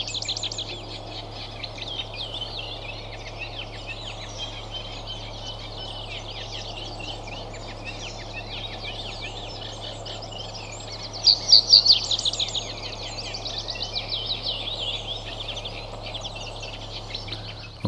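A male reed bunting calls from the background in brief, thin chirps amid a chorus of other birdsong and steady outdoor ambience, faint and distant, with a slightly louder burst of calls partway through.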